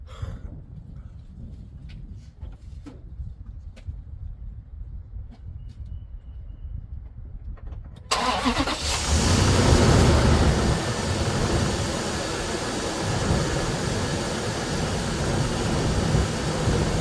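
A car engine cranks over and catches after a quiet stretch of faint clicks, then settles into a loud, steady idle with a rough rumbling drone that continues to the end.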